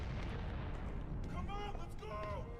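Explosions rumble through a building under attack by the Vox in BioShock Infinite, a dense continuous low roar with distant screaming voices rising over it, loud and sustained throughout.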